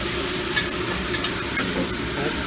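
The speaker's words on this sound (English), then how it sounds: "And then I mix it with Cooper Sharp and some white truffle oil" Steak stirred with Cooper Sharp cheese and white truffle oil on a hot griddle, a steady close sizzle with scraping stir strokes throughout, no talk.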